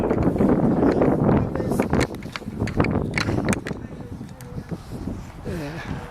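Wind gusts buffet the microphone in a steady low rumble, with scattered thumps and rustling movement close by.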